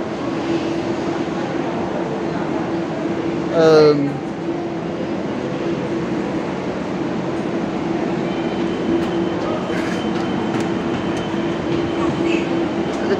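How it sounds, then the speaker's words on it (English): A train pulls away from a station in Spain, its steady rolling rumble and faint humming tone continuing at moderate loudness, while people talk nearby. "The train is going off now."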